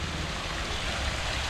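Water rushes away in a steady, dense, noisy flow as an old well is drained to catch fish, close and continuous with no talk.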